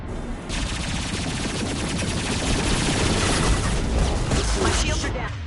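Rapid automatic weapon fire in the Mass Effect video game, a dense, loud, continuous barrage of shots that starts abruptly after a brief pause and holds for several seconds.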